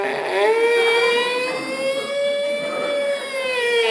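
A voice imitates a child's wail in the style of an American police siren: a loud, sustained, rising-and-falling howl, alone and unbroken for several seconds.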